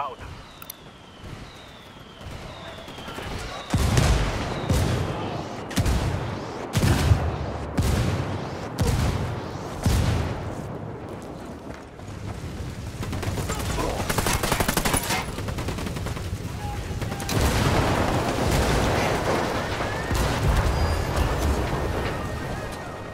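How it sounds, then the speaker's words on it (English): A mortar barrage in Ghost Recon Wildlands lands as a string of heavy, thudding blasts at irregular intervals, then fades into a long rumbling wash of explosions and debris. Radio voices talk over parts of it. "For some mortar fire."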